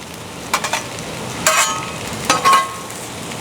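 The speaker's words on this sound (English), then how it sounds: "They are cooking up good, and it's time to move them into the skillet." Mushrooms frying on a Blackstone griddle, a faint sizzle broken by three brief bursts of scraping and stirring.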